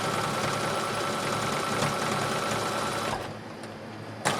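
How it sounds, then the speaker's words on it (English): Sewing machine zigzag stitching along the raw edge of a pioneer dress seam, a loud continuous close-up hum that drops away near the end, leaving a softer tail and a final click. "now I'm zigzag stitching right along that raw edge"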